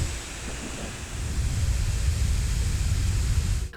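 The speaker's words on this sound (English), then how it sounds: "It just doesn't take too much for the fans to fire up and make it sound like this will Legion Go off into space." Cooling fans of a Lenovo Legion Go handheld gaming PC spin up into a steady, loud broadband whoosh that swells slightly after the first second and holds, with no talking.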